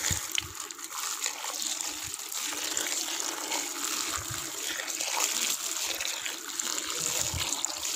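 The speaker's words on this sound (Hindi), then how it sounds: "अब अच्छी तरह से सारी सब्ज़ी को पानी के साथ धो लेंगे।" Fresh vegetables being washed with water by hand, steady trickling and splashing with soft low thumps of produce handled in the water, fairly close and at moderate volume.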